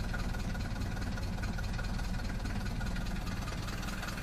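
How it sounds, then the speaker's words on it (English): A 1972 Mercedes W115 diesel idles at low speed, giving a steady low rumble with a faint knocking pulse, quiet and even throughout with no talk. "With this one, you can let the engine run slower."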